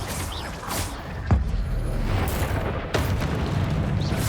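A deep boom from a Confringo fire spell explosion in the video game Hogwarts Legacy, one sharp burst followed by another rumbling blast amid game noise, with no talk.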